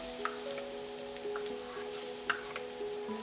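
Garlic sizzles in hot vegetable oil over medium-high heat for a pork belly stir-fry, a steady close crackle with a few sharp pops and faint utensil taps.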